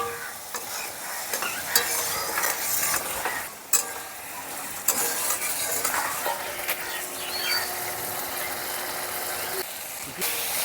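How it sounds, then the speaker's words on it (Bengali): Spice paste with salt and turmeric being sautéed with potatoes in a pan for Bengali shol fish curry: steady sizzling frying with repeated scraping and stirring strokes of a spatula, fairly close and continuous. "মশলাটাকে আলুর সঙ্গে ভালো করে কষিয়ে নেব।"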